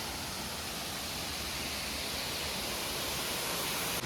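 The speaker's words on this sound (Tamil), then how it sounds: "செம்மையா ஓடுதுங்க தண்ணி புல்லாமே" A hillside stream swollen after heavy rain rushes with a loud, constant broadband roar of water, close by and steady throughout with no talking.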